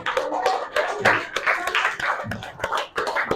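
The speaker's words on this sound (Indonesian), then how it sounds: "Tepuk tangan untuk kalian semua." Students in a school classroom clap for one another, a lively, close-up burst of hands with uneven rhythm and a few louder slaps, steady throughout.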